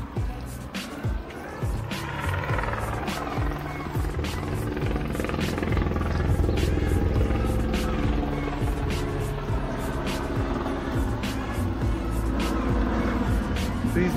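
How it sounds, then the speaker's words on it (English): A helicopter's rotor thumps steadily overhead, a low rhythmic chopping that stays fairly constant and moderately distant throughout. "Hopefully that helicopter will go away in a bit."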